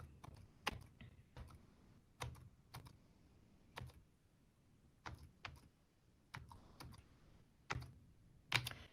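Keys on a BrailleSense Polaris braille keyboard tap in sparse, irregular clicks, some single and some in quick pairs, close and crisp against a quiet background.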